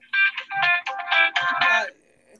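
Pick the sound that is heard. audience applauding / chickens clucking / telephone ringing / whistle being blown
telephone ringing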